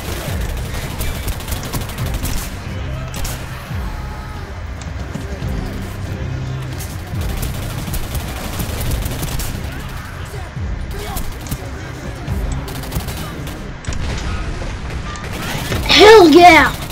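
Video game combat with rapid gunfire bursts running throughout, capped by a loud grenade blast near the end, while a voice talks over the action.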